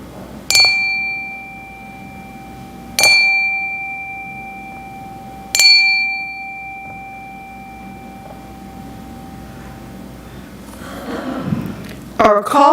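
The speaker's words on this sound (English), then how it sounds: "let us settle our minds and calm our hearts with the ringing of the chime" A chime rings three times at a church service, each clear bright strike leaving a long pure tone that decays slowly, evenly spaced a few seconds apart, followed by faint shuffling and quiet movement at the end.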